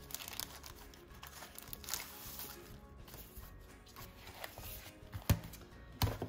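Sticker sheets are handled and peeled while planning in an A5 agenda, producing quiet, close crinkling and soft tearing rustles with a few sharper paper snaps near the end.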